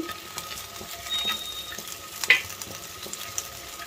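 Eggs frying in a pan with turmeric and salt, a steady soft sizzle running throughout with one sharper crackle midway, close and moderately quiet.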